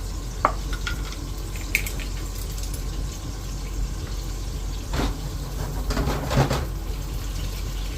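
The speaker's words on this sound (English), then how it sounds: "Just toss these in the oil now until they're cooked and soft." Pork pieces fry steadily in hot oil for sweet and sour pork, a close, continuous sizzle with a few clinks of stirring and utensil taps, no talking.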